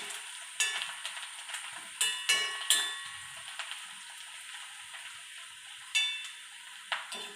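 Sliced onions fry and get stirred in a pan, a faint steady sizzle broken by scattered clicks and scrapes of a spoon against the metal.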